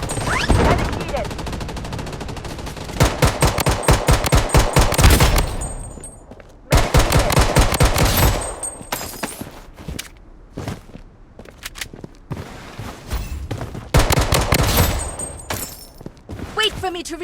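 Pistol gunfire in a battle royale shooter game, loud rapid bursts of close shots in several volleys separated by brief pauses and footsteps, with game voice callouts in between.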